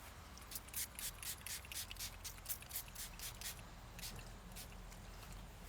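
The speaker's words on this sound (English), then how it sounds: "Bug spray." Bug spray sprayed outdoors in bright sun, heard as a quick series of about a dozen short, close hissing bursts, followed by a few more spaced-out spritzes.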